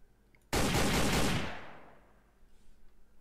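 A loud burst of rapid automatic gunfire from weapon testing in the video game Sneak Thief, a dense close volley lasting about a second and then trailing off into a fading echo.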